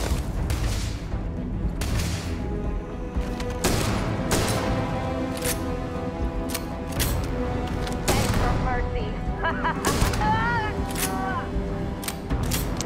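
Shotgun blasts in the game Starfield boom out one at a time at uneven intervals, loud against a dense sci-fi game backdrop, with bright electronic chirps near the end.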